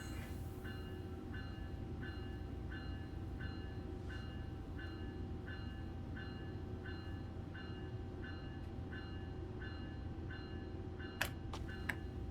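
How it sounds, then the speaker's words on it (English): A train in Train Sim World, running under Positive Train Control, rumbles steadily at low volume with a regular ticking pulse throughout and a couple of faint clicks near the end, with no talk. "we somehow managed to get the train to the station"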